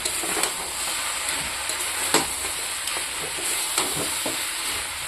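Steady crackling sizzle of banana flowers, potatoes and chickpeas frying in a pan, with occasional stirring scrapes and clinks, close and continuous with no voices.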